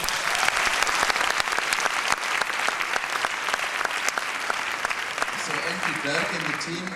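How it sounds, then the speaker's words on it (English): Applause from an evening conference audience that congratulates itself, with individual sharp claps audible in a steady crowd patter and a voice starting to speak toward the end. "So give yourself a round of applause."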